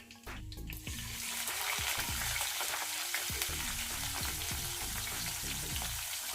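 Mustard seeds, cumin and sliced onion fry in hot oil in a pan for curry, giving a steady, close crackling sizzle throughout, with occasional scraping of stirring.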